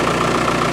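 Isuzu 4BD1T diesel engine idling steadily after a cold start in sub-freezing weather, a low, even rumble with a rapid regular knock, close and constant throughout.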